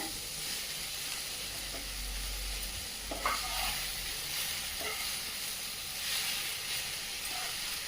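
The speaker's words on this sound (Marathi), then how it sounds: "आता कमी आचेवर छान अशा परतून घ्यायच्या" Sliced leftover idli pieces sizzle with vegetables in a pan over low heat, a steady close frying hiss with occasional scrapes and stirring clatter.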